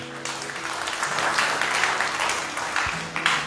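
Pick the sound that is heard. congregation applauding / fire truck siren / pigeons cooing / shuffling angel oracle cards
congregation applauding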